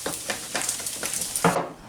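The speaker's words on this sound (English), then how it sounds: "there's something therapeutic about the sound of bacon sizzling" Bacon sizzles and crackles in a pan, a close, steady frying hiss with bursts of spatter and stirring, heard alone.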